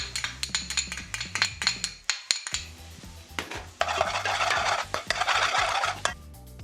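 Garlic stirred into browning onions in a pan: a run of metallic spoon clinks and scrapes against the pan, then a brighter frying sizzle with more clattering stirs, fairly close, with no talking.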